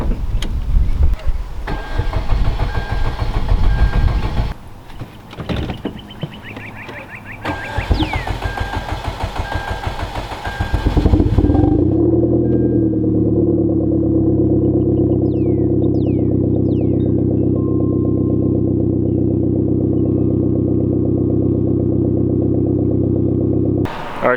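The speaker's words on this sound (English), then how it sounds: "Let me go ahead, give you guys this cold start" Hyundai Genesis Coupe with performance mods cold-starting up close: clattery handling noises and cranking, then the engine catches around halfway and settles into a loud, steady, rumbling high idle that holds to the end.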